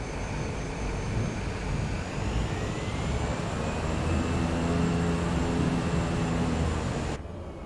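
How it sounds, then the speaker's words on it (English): A plane powering up for takeoff in Microsoft Flight Simulator, a steady loud engine roar with a rising whine that holds for about seven seconds and then abruptly drops away. "Let's get this plane in the air."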